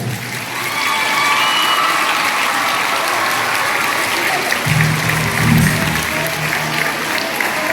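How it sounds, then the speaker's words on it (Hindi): An audience at a school's annual results ceremony applauds to welcome a guest on stage: sustained, fairly loud clapping that builds and continues for several seconds, with a brief voice and low thumps partway through. "आपकी भरपूर तालियों में स्टेज पर दावत देता हूँ"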